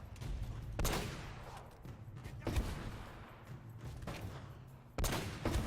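Gunfire from Uncharted: Drake's Fortune in a church fight against mercenaries: sharp, loud shots in bursts and single cracks, some echoing, with quiet gaps between volleys.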